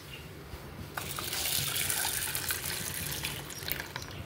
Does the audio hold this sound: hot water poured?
yes